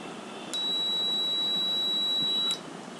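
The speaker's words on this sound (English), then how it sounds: "when I press the switch, buzzer turns on" An Arduino-controlled electronic buzzer, switched on by a push switch, sounds a single steady high-pitched tone for about two seconds over faint background hiss, then cuts off.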